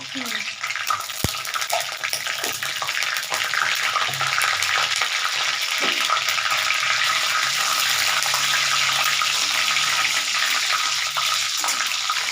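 Whole dried red chillies with stems and nigella seeds frying in hot oil for a mourala fish chorchori, a steady loud close sizzle with a few sharp crackles, running alone without voices.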